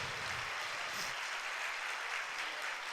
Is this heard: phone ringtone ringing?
no